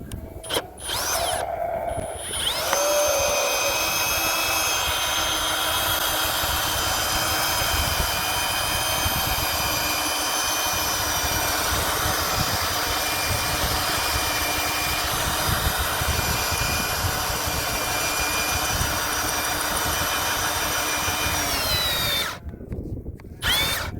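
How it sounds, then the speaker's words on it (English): A power drill whirs steadily for about twenty seconds, loud and close, with a brief start-up at the beginning and a stop near the end. "I just ran a little drill"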